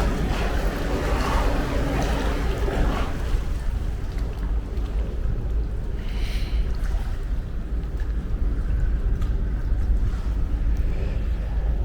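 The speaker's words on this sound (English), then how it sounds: "The old sea's getting a bit turmoil there now, look. We're getting some waves." Choppy waves on the River Thames slap around an old jetty hung with massive chains, a steady washing churn under heavy wind buffeting the microphone, continuous throughout with no talk.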